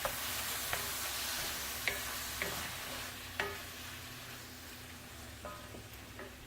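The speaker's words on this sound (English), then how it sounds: "Stir it up." Chicken and mushrooms sizzle steadily in a pot while a utensil stirs and knocks against the side a few times, with faint tonal hum underneath.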